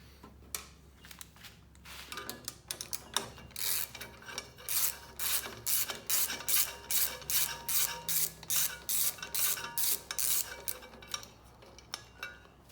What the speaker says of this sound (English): So I'm just gonna whip this carburetor off.